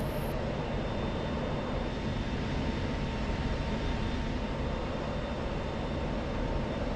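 An F-16C jet in the DCS flight sim video game climbing after takeoff, a steady, loud, broadband engine roar heard from the cockpit, with a faint constant tone running beneath it.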